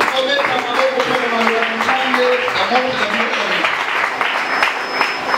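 Church congregation at a Sunday worship service applauding together, a steady dense wash of clapping with shouts and voices mixed in throughout.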